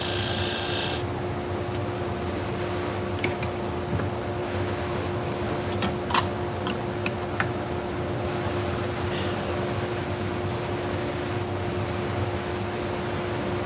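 Salon shears blade rubbed against a sharpening surface, giving a steady low rasping scrape with faint hum underneath and a few brief higher metallic ticks scattered through.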